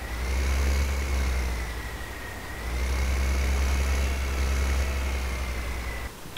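A tractor engine idles in Farming Simulator 2015 with a steady, close, low droning hum that dips briefly midway, then resumes before cutting off near the end.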